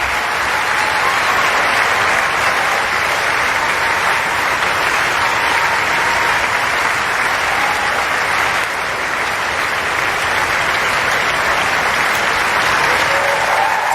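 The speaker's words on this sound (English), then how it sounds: "Centre court stands and applauds" The Centre Court crowd at Wimbledon 2018 gives a standing ovation after a Serena Williams victory, a loud, dense wash of sustained clapping that holds evenly for about fourteen seconds.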